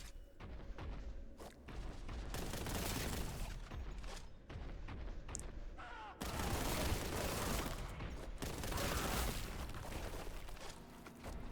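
Rapid bursts of gunfire in Warhammer 40K: Boltgun, heavy repeated shots and explosive blasts in loud clusters with brief gaps, mechanical clanks between volleys.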